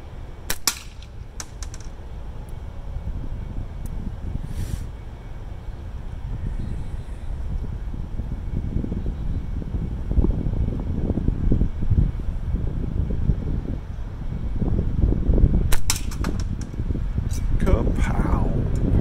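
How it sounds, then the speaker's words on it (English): A Magpie Hunter Light gun fires several sharp shots outdoors at a quarter-inch steel target, the bursts clustered at the start and end over wind noise and a low background rumble. "I'm just shooting the bottom part."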